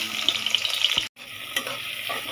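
Onion, garlic and green chili frying in oil in a wok, a bright crackling sizzle with stirring scrapes, briefly cut to silence before the sizzle returns somewhat quieter.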